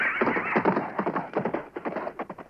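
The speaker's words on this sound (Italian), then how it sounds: "Quel cavallo è così furioso che nemmeno gli adulti gli si avvicinano" A furious horse neighs loudly and stamps its hooves in a fast clatter of clip-clops, with shrill whinnies rising over the hoofbeats.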